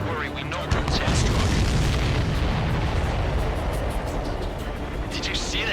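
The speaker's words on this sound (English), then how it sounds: "Did you see that explosion?" A supply ship explodes in the video game Ace Combat 7, a sustained loud, rumbling blast that fills the whole stretch under continuous aircraft engine roar, with radio voices chattering over it.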